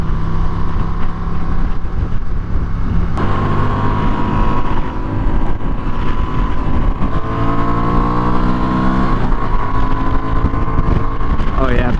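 A Honda Transalp 750 motorcycle cruises on a freeway, its engine droning steadily under heavy wind rush, with one rising shift in pitch partway through.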